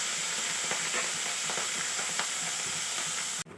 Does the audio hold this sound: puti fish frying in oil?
yes